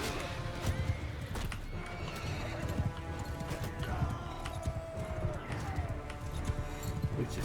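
Horses in the video game Mount & Blade 2 Bannerlord gallop with steady clip-clop hoofbeats and neigh loudly over a busy battle din.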